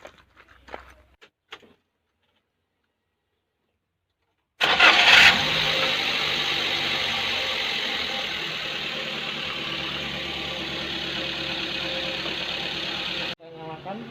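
A 2016 Daihatsu Granmax with its lambda sensor disconnected cranks and starts with a sharp burst, then settles into a steady, loud idle that cuts off near the end, after a few brief handling noises.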